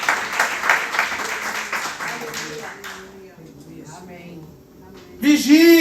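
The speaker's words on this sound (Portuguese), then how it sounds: "Aplauda o Senhor." A church congregation applauds the Lord during a Brazilian evangelical service, giving a few seconds of loud, dense clapping that dies away into quieter room sound and talk, followed by a sung or spoken voice at the end.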